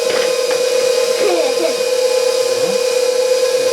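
An electric mixer whirs steadily through blueberry banana bread batter, a constant high motor whine with loud continuous churning, while a person talks over it.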